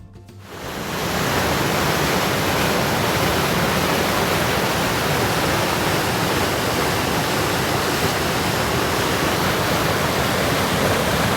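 The fast-flowing French Broad River rushes steadily and loudly after a brief quiet start, a dense unbroken roar of water with no voices.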